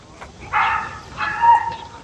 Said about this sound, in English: Is that a dog? Oh, it is a dog.